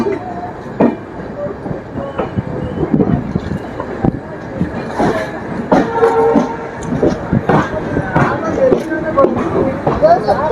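The Panchaganga Express pulls out of Hassan Junction with loud, irregular clanks and rattling wheel beats over a constant rumble, and a brief squeal cuts in along the way. Voices talk beneath the train noise.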